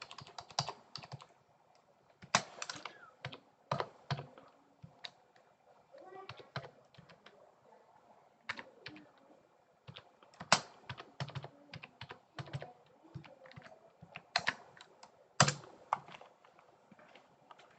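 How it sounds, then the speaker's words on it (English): Fingers type on a computer keyboard in a networking lab, irregular bursts of sharp clicking keystrokes with pauses between, close and fairly quiet. "or I just type it"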